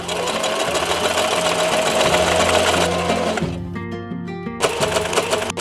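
A sewing machine stitches hand-sewn masks, its rapid, even motor hum running loud and near in stretches with brief pauses and restarts between them.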